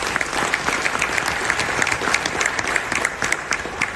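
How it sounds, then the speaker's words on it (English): A live keynote audience claps in sustained applause, a dense crackle of many hands heard from within the room, steady and loud for the whole stretch with no voices over it. "Give yourselves a round of applause"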